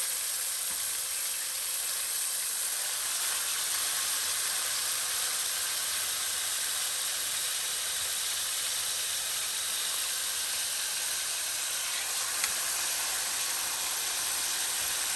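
Food frying in hot oil on a stovetop while cooking for rice bowls, giving a steady, dense hiss and sizzle that holds evenly from start to finish, close and fairly loud, with no talking.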